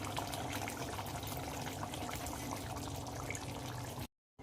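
Raw mustard oil pours over a finished chital fish curry, giving a continuous soft liquid trickle close by that runs steadily for about four seconds before stopping.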